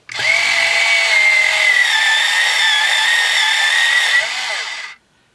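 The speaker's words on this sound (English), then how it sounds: "I'm going to sharpen it really quick. I think I'm also going to sharpen my white one" An electric sharpener grinds a neon pink colored pencil in one loud, continuous whirring buzz lasting about five seconds, then cuts off abruptly.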